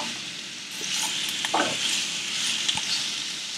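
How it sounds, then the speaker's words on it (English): Ridge gourd chutney stirred in a hot pan, a steady sizzle and frying hiss with soft scraping strokes of a spoon, close and continuous without talk. "we're just giving it a nice mix"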